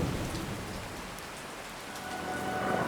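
Steady rain pours down in a continuous dense hiss, loud and even throughout with no voices.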